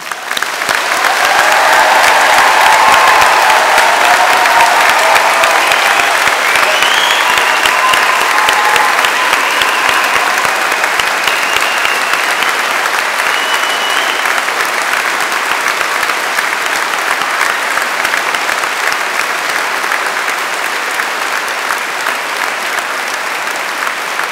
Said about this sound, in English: I'll ask the rest of you to please give them a rounding, thunderous applause